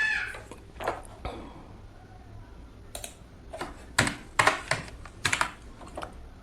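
Keys tapped on a computer keyboard while HTML table data is entered, heard as irregular bursts of close, crisp clicks with short pauses and no talking.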